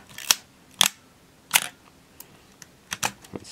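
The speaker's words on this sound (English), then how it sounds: "Let's again actuate that shutter." A Pentax K1000 35mm film SLR fires its mechanical shutter several times, each release a crisp, close metallic click, separated by short gaps and followed by softer clicks of handling.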